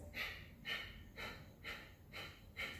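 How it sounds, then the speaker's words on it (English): Six forceful nasal exhales from power yoga breathing puff out in a steady rhythm about every half second, close and quiet, each a short sharp burst of air with no talking. "we're just exhaling through the nose forcefully, engaging those abs, and the breath will automatically inhale"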